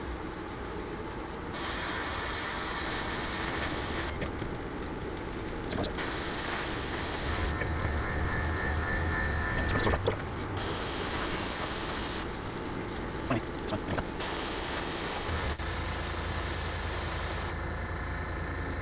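Short bursts of an airbrush spraying paint onto one side of a 1/48 Zvezda Su-57 model aircraft as a second coat, a steady close hiss that starts and stops several times with brief pauses between passes.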